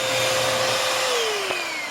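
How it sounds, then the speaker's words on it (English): A small handheld vacuum cleaner running steadily while clearing lint from the cabin air filter housing of a 2004 Honda Odyssey, a loud continuous whine that drops slightly in pitch midway, close up with no talk. "I'm gonna clean it with a vacuum, and be careful not to suck the screw in the vacuum"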